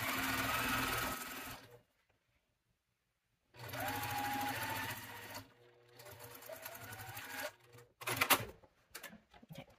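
A sewing machine stitching fabric in bursts: a fast, loud mechanical whir running about two seconds, pausing, resuming for several seconds, then short stuttering runs.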